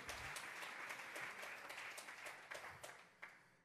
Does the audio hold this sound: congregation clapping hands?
yes